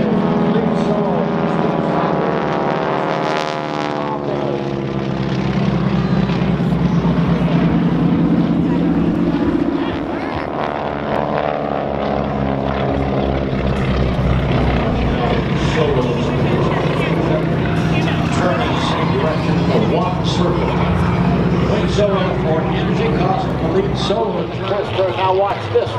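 Propeller drone of an aerobatic airplane performing manoeuvres at the 2016 Tampa air show in Florida, a loud continuous engine tone rising and falling in pitch as the plane climbs and turns, under an announcer's talk.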